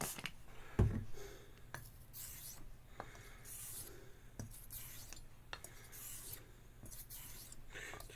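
A straight razor is stroked in laps across a hone, giving quiet, repeated scraping rasps at a regular pace, faint and close with small clicks between strokes.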